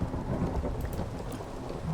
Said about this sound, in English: some nice thunder and lightning